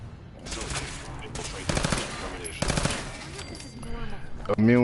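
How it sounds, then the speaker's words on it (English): Enemies fire laser weapons in Fallout 4 at Fort Hagen, rapid bursts of shots crackling in several sustained volleys, loud and close, with a voice talking over part of the gunfire. "They're shooting lasers at me"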